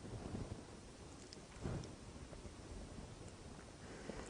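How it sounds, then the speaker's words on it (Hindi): Heavy rain and strong winds sweep over Hyderabad in a thunderstorm, a loud, steady broadband roar with a brief thunder-like swell about midway and no voices. "शहर के कई इलाकों में गरज व चमक और तेज हवाओं के साथ बारिश हुई।"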